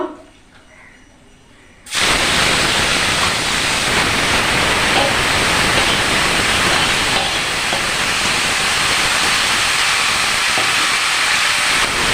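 Chicken drops into a hot pan with whole spices such as cardamom, cinnamon, cloves and bay leaves, setting off a sudden loud, steady hiss of sizzling oil that keeps going after a quiet start.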